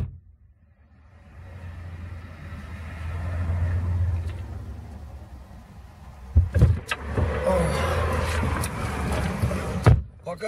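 A car drives through downtown Omaha: a steady low engine and road rumble swells and fades, then rougher road noise and a few thumps follow near the end, with no talk.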